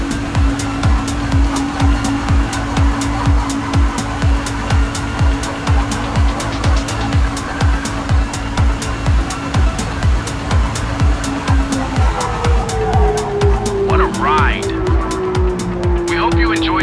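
A Toyota autonomous test car drifts around a course with a continuous droning engine and a pulsing rhythm, ending in a rising tire squeal, loud and close, while a person speaks over it.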